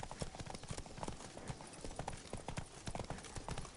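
Steady clip-clop of hooves from the horse Roach in The Witcher 3, a quick continuous trotting rhythm, fairly faint and close, with no talking.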